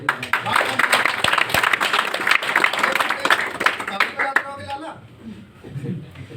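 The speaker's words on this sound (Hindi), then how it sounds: "वो भी ताली बजा रहे हैं।" Several people clap together in a dense burst of applause that lasts several seconds, then fades out as talk continues.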